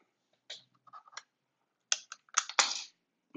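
Plastic keycaps pulled from a mechanical keyboard during a Tofu keyboard build clatter and click in short, close, sparse bursts, separated by quiet pauses.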